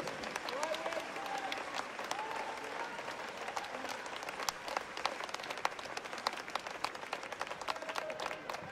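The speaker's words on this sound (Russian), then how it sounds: "Потрясающая самба в исполнении полуфиналистов и ваши бурные аплодисменты." A dense crowd applauds steadily after a samba by semifinalist couples at the Autumn Moscow Cup 2018 professional Latin dance competition, with some louder individual claps and a few faint voices mixed in.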